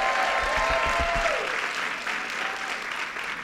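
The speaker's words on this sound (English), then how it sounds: "Let's give her a big round of applause." Audience applause fills a women's march breakfast hall, a steady dense wash of many hands clapping at moderate loudness that tapers slightly toward the end, with a faint voice briefly underneath at the start.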